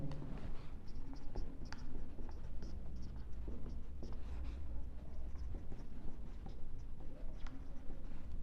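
Pen writing on paper while working a Class 9 surface area problem: soft, close scratching and tapping strokes in an irregular rhythm, fairly faint over steady background hum, with no talk.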